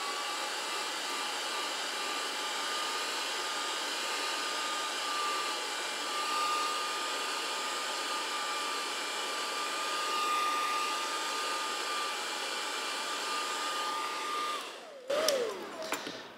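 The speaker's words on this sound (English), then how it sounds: "use a hairdryer to warm up the adhesive on the tape" A hairdryer blows steadily and close to warm the adhesive on masking tape stuck to watercolor paper, a continuous broadband whoosh with a faint tonal whine, cutting off abruptly near the end with a brief clatter.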